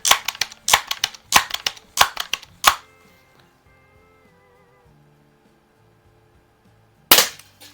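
An antique Crosman air rifle fires pellets: a rapid run of sharp, close cracks over about three seconds, a long quiet stretch with faint ringing, then one more loud shot near the end. No voices.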